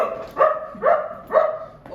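A single dog barks three times in an even rhythm, close and fairly loud, with a softer fourth yelp at the end.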